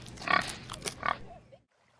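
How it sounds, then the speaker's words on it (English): A pig oinks in a few short, close grunting bursts, then falls silent. "Oink oink"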